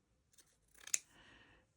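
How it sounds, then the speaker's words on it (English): Big scissors snip through material: quiet handling, then one sharp crisp cut near the middle followed by a soft trailing rustle, close and alone. "Where's my big scissors?"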